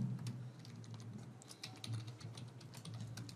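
Quiet, close keystrokes on a computer keyboard come in quick irregular runs as a variable name is entered, with no talking over them.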